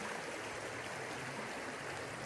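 A river at Big Bend National Park flows in a steady, faint wash of rushing water heard from its banks.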